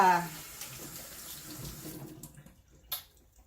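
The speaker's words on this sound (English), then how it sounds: "I'm gonna wash my hands" Water runs from a kitchen tap during handwashing, a close, steady rush for about two seconds. It then cuts off, leaving a quieter splash and a brief clatter.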